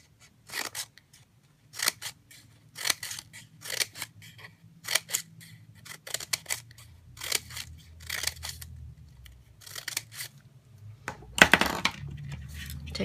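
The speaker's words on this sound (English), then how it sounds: "You're going to snip from the other edge." Scissors snip through folded paper while a sign is being made: a series of quiet, sharp cuts spaced irregularly across the clip, close by and with no voices.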